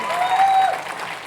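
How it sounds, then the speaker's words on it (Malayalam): An auditorium audience at a cookery show breaks into a short burst of dense applause, loud and continuous, with a faint voice mixed in. "ഒരു വലിയ കയ്യടി പോലെ"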